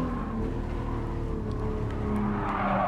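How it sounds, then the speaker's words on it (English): Race car with a rotary engine in the racing game Gran Turismo Sport, giving a steady, loud engine drone with shifting pitch and some tire noise, heard alone throughout. "The rotary engine sounding like a freshwater shark"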